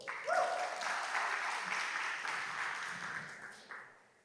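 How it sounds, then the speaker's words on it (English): A crowd claps steadily for several seconds, a full round of applause with a whoop near the start, fading out at the end. "Let's give them a round of applause."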